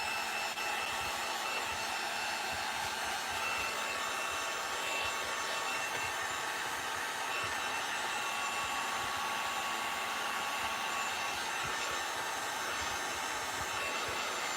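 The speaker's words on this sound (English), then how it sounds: "I'm gonna grab my heat gun and just make sure all this paint is" A heat gun drying paint on a wooden wildflower sign, a steady, continuous blowing roar that holds at an even level throughout, close up, with no speech.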